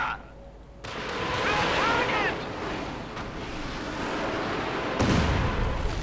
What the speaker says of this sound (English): There we go, the Katyusha fires.